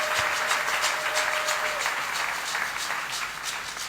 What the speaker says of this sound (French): On peut acclamer la parole du Seigneur.